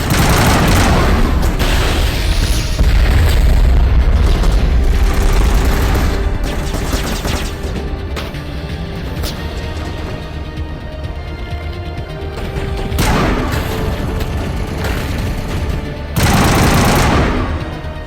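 Loud, sustained gunfire from a weapon in the video game Mass Effect 1, with rapid continuous bursts and booming impacts that ease briefly and then surge again near the end.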